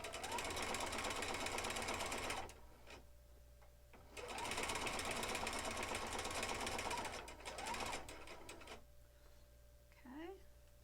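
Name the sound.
sewing machine sewing quilt pieces together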